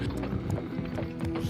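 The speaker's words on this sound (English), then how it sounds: "It's like ostriches, like battle ostriches." Rapid rhythmic thudding of running hooves from ostrich-horse creatures in an Avatar cartoon, a dense galloping patter heard continuously throughout.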